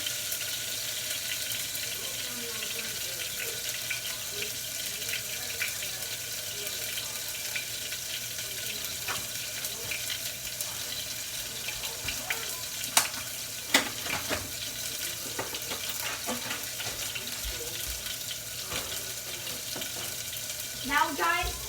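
Food in a frying pan, a paprika-seasoned mixture softening to mush before a stir-fry, gives off a steady sizzling hiss with scattered small crackles and clicks throughout.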